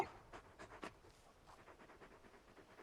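A large dog in the video game Final Fantasy XVI pants in quick, soft, rhythmic breaths, faint and steady against low background sound, with no one speaking.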